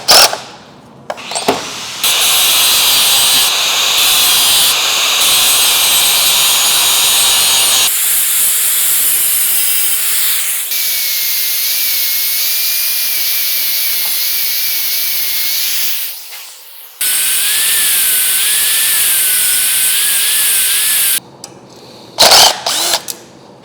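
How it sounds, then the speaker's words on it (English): Angle grinder working a steel exhaust pipe for a Honda CBR/VFR 800 dual-exhaust build, loud broadband hissing grind in long sustained passes with brief pauses, close up and with no talking. "Just putting it on this piece of pipe here just to hold things in place while I grind on it."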